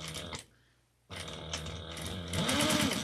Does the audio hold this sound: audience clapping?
no